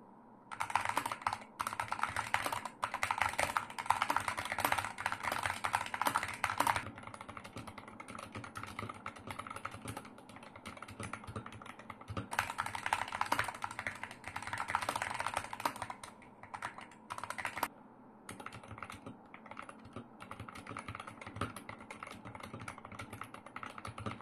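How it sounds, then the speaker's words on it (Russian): Someone types steadily on a Furycube HZ-94 analog keyboard with a relatively muffled case and backplate, producing fairly quiet, close key clicks in bursts with brief pauses. No one talks. "за счет менее глухого корпуса и в частности бэкплейта клавиатуру слышно намного тише"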